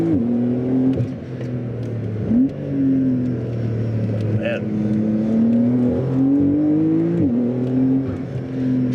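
A Porsche 992 Carrera 4S drives a handling circuit, and its engine note climbs and falls in repeated revving sweeps as it works through the corners. Tire and wind noise sit underneath, and a voice is heard from time to time.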